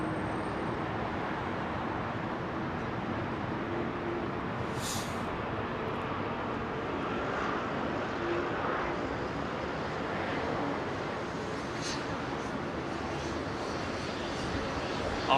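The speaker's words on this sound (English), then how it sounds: "Is that an intersecting departure for that 787?" A Boeing 787 makes an intersecting departure at London Heathrow, a steady, fairly distant jet roar rumbling under a quiet voice, with a couple of brief high-pitched squeaks.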